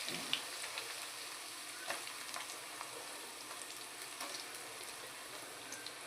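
Onion frying in oil with garlic paste for a puri bhaji curry: a soft, continuous sizzle and crackle, fairly quiet and steady, with faint spoon taps now and then and no speech.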